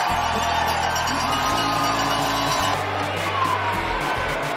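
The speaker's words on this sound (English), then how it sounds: "listen to this crowd" Loud hockey arena crowd roaring and cheering after a goal, a dense sustained wall of cheers and whoops with a steady drone beneath, continuing at full strength throughout.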